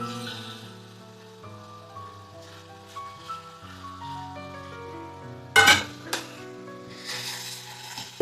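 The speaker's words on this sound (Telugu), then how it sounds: "నూనెలో ఫ్రై అయ్యేలా కలుపుకోవాలి" Fresh mint and coriander sizzle while being stirred in hot oil in a pan for an egg curry, a soft frying hiss under sustained background music, with a sharp spoon clink partway through.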